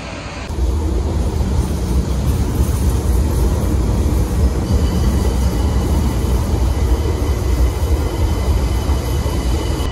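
Interior of an Intercity train travelling through Brussels: a continuous, loud, broadband rumble of wheels and motion noise holds steady throughout, with no voices.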